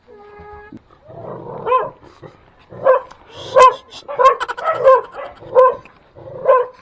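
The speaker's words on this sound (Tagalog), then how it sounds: "Tatapang ng aso dito." Several dogs bark repeatedly, loud and near, in irregular bursts at a parking area by Colgante River in San Lorenzo Ruiz; a brief tonal beep sounds at the start.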